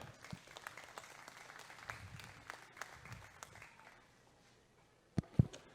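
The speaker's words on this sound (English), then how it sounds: "give all these exhibitors a nice big round of applause" Light, scattered applause from the crowd at a county junior fair steer show thins out into quiet, followed by a couple of loud, close knocks.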